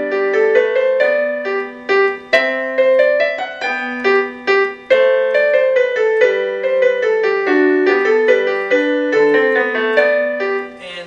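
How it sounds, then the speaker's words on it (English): Solo piano playing Bach's Minuet in G, a clear, steady melody over a moving bass line with evenly paced notes, close and alone with no talking. "we're working on a minuet in G by Bach."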